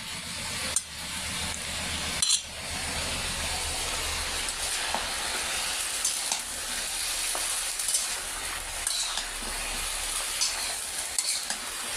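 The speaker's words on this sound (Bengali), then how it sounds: "এই যে কপিটা এখন কষাই নিচ্ছি" Cauliflower being stir-fried in a pan alongside fried fish, with continuous sizzling and the scrape of a spatula stirring, a few sharper knocks against the pan, close and steady.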